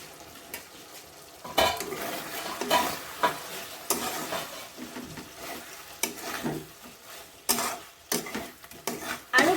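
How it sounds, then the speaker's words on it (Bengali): Cauliflower cooking in a covered pan for a Bengali-style roast, with a clatter of lid and metal against the pan over a steady sizzle, then repeated scraping and stirring strokes at close range. "5 মিনিট পর আমি ঢাকাটা খুলে দেখছি"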